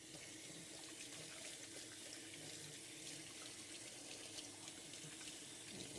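A kitchen tap runs steadily as hands are quickly rinsed during cooking. The water is soft and constant, with no talk.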